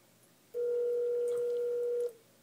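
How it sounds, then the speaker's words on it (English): A single steady ringback tone from a phone call placed through a free iPad app, one sustained beep of about a second and a half over quiet background. "And there you have it, it's making a phone call."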